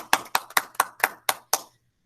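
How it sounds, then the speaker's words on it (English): Seven sharp, evenly spaced claps at a school awards ceremony, close and distinct with short gaps between them, before they stop into quiet. "So let's give Harper a round of applause."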